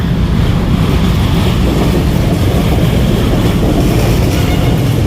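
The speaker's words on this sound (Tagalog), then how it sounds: "Oh, LRT yun kaya maingay." An LRT light rail train rumbles past nearby on a bridge toward Quiapo at night, a loud continuous low roar with steady rattling and no voices.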